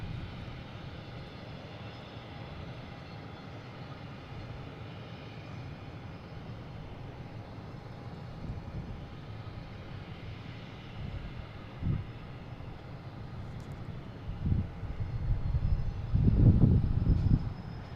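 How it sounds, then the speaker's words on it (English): A Delta Embraer E175 jet arriving from Charlotte at Boston Logan Airport: a steady, distant engine rumble runs throughout, swelling louder and rougher near the end as the aircraft draws closer. "We have Delta E175 coming from Charlotte"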